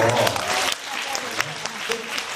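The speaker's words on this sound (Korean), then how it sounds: "박수 크게 합쳐주시고" Fan meeting audience applauding for Baek Chung Kang, a dense wash of clapping that swells at first, then eases into steady applause under cheering voices and talk.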